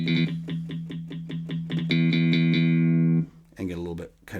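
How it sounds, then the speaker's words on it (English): An AeroBand digital practice guitar with distortion for a metal sound: repeated plucked notes with a buzzy, harmonically rich tone build into a long sustained chord, followed briefly by a voice. "presumably we could add some distortion to that."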